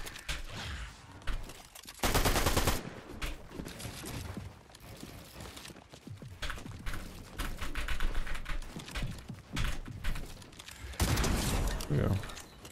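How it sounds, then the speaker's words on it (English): Shotgun blasts and other gunfire in a ranked video game match, heavy bursts of shots coming in clusters over loud game noise, with a player talking and keyboard clatter in between. "The shotgun, bro, I need to reload it so much."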